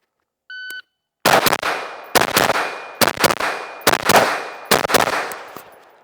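A rifle fires at a 12-yard target after a short beep: about seven sharp, loud shots come in quick pairs and singles, each with a short ringing decay, closely recorded.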